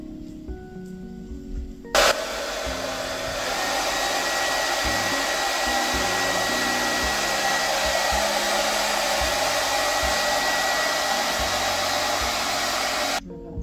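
Hair dryer blowing steadily while drying hair after a home haircut, switching on abruptly and running loud and continuous for about eleven seconds before cutting off, close to the microphone.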